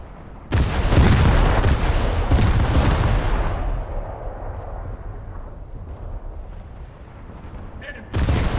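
Heavy naval guns firing in a warship video game, a rapid cluster of loud booming salvos followed by a long rumbling decay and another blast near the end, with a voice talking over parts of it.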